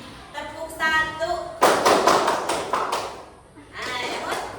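Participants in a counselling-session clap game answer a woman's spoken cue with a sharp, close flurry of clapping hands that is not quite in unison, then talking resumes.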